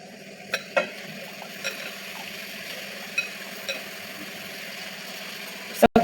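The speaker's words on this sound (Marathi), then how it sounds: "त्यानंतर आपली जी मटकी भिजवलेली होती ना ती मी यात थोडी थोडी करून टाकत आहे" Soaked matki sprouts go into onions in a pan a little at a time, soft scattered clinks and light scraping over a quiet sizzle, then a louder clatter at the end.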